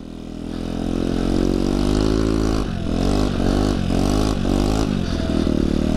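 A scooter engine winds up hard near the rider, a loud buzzing drone that climbs in pitch, dips briefly with a few quick gear-like stutters, then pulls again in steady acceleration with no talking.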